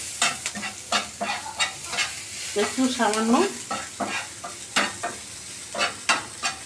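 Eggplant slices fry in a pan with a constant sizzle, broken by repeated scraping and stirring strokes at an irregular rhythm, close by; a voice speaks briefly.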